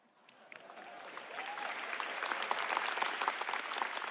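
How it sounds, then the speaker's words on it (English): Audience applause in a large hall at the NVIDIA GTC Taipei keynote, starting faint and swelling into steady, dense clapping that carries on for several seconds with no talk over it. "And a round of applause for our pre-game show superstars, ladies and gentlemen."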